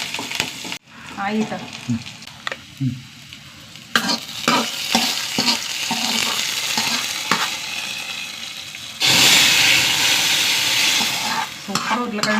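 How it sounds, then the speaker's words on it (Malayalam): Curry leaves frying in hot oil in a pan, loud crackling sizzle with stirring scrapes and clatter, swelling into a strong hiss near the end, with a few brief spoken words. "കുറച്ച് കറിവേപ്പില, ഇതൊന്ന് മൂത്ത് വരട്ടെ."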